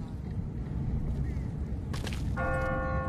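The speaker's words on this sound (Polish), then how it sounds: "Dzwonią dzwony w kościele." Church bells ring in The Walking Dead video game. Sustained bell tones enter partway through and continue over a steady low background rumble.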